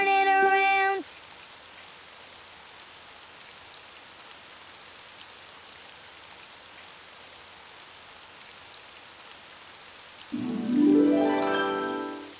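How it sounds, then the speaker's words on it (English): Steady rain hisses and patters without pause, with brief tonal sounds at the start and again near the end. "Oh, it's raining outside."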